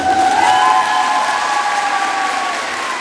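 Audience applause and some cheering at a Women's Day public gathering and mini concert in Yenice, Karabük, loud and close at first and then easing off slightly, with a sustained tonal hum or music note running underneath.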